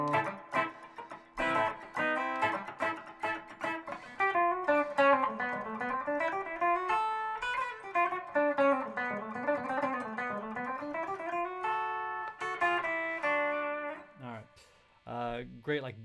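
An electric guitar plays a fast, winding bebop-style single-note line in a country guitar lesson, a clear run of plucked notes that climbs and falls for about fifteen seconds before a few closing notes.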